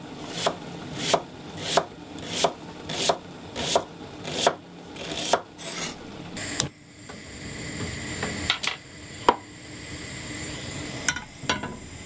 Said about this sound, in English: So I'm going to get the risotto started by first of all cutting up some onions.